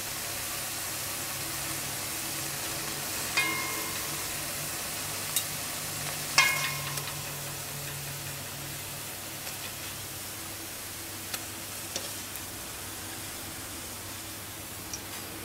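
Plantain slices fry in hot oil with a steady, soft sizzle, broken by a few faint clinks and taps of utensils.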